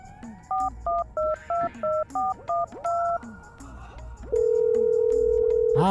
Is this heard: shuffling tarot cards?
no